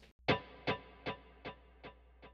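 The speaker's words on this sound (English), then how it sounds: "which is my TC Electronics Nova delay" Electric guitar through a TC Electronic Nova delay: a single picked note followed by five or six evenly spaced echoes that fade gradually, clear and alone.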